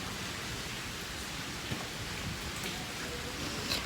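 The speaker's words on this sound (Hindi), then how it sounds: "आज सुबह से बारिश हो रही है" Steady rain falls outdoors in a continuous, close hiss with scattered drop patter, and no one speaks over it.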